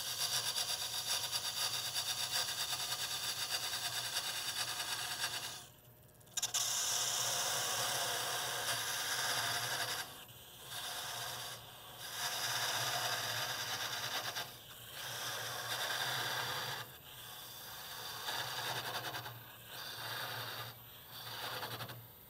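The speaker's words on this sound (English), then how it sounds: "I'll mount this tenon in the chuck, part off this waste here that's going to become the base later on" A wood lathe spins a wooden sphere held by its tenon in a chuck while a tool hollows it, giving a steady loud rasping hiss broken by several short pauses in cutting.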